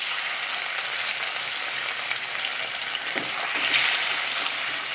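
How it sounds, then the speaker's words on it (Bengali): Rohu fish pieces frying in hot oil in a kadai give a steady, close, crackling sizzle that holds evenly throughout, with a few slightly louder spits near the end and no talking. "কড়াই তেল গরম হয়ে গেছে, এবার আমি এক এক করে মাছগুলো দিয়ে দেবো।"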